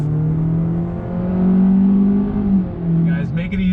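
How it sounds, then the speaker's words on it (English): A 2020 Honda Accord Sport engine pulls under throttle from inside the cabin, a steady droning growl that swells and rises, eases briefly, then climbs again, with a voice faintly present. "I'm gonna go ahead and get on throttle."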